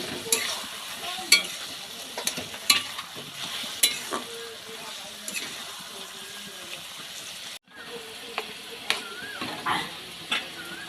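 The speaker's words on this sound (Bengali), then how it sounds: "এদিকে রান্না হচ্ছে শাক, এটা মেথির শাক।" Fenugreek greens cook in a pan over a low, continuous sizzle, with frequent quick stirring clacks and scrapes in an uneven rhythm and a brief dropout partway through, heard up close.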